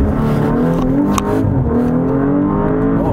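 An Audi RS5 Sportback engine revs hard toward 7,000 RPM near the rev limiter, a loud, steady, close engine roar with a rising then sustained pitch and no pauses.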